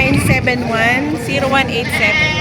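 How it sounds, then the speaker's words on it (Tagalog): Goats at a livestock market in Balayan, Batangas bleat in wavering cries, mixed with voices and busy market noise. "Ayan ang mga quality ng kambing nila, oh."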